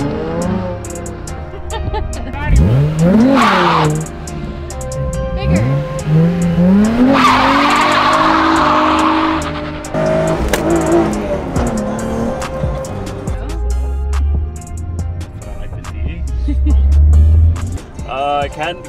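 A Nissan 350Z and a Hyundai Genesis Coupe 2.0T race, engines revving in loud rising sweeps with tire squeal and skidding, while people talk over the noise.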